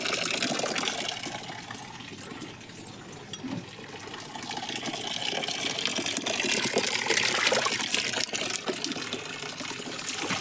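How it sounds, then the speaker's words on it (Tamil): Plant growth booster liquid spraying onto potted terrace plants, a continuous hissing, gushing spray that runs steadily throughout with slight swells in intensity. "எல்லா செடியும் நல்லா நனைகிற அளவுக்கு தெளித்து விட போகிறேன்"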